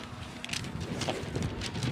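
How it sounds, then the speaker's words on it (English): Gusty wind buffets the microphone at an outdoor Australian rules football match, a steady low rumble with brief stronger gusts across the whole moment, faint and continuous with no clear speech. "A little bit windy."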